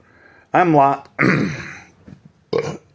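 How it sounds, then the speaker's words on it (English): A loud, close, guttural burp, then a throat-clearing grunt and a shorter sound after a pause. "Excuse me, I burped."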